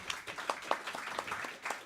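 An audience claps for a presentation at a JuliaCon 2024 conference session, a short run of light, fairly sparse applause heard from a distance in a room.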